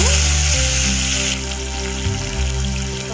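Urad dal, chana dal and curry leaves sizzle in hot oil as tempering for kobbari pachadi, a coconut chutney. A steady, close frying hiss continues throughout over a faint sustained background tone, with no talk.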